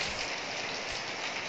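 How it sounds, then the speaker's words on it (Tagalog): Heavy rain during a typhoon pours in a dense, steady hiss, loud and continuous, with no voices over it. "Napakalakas ng ulan."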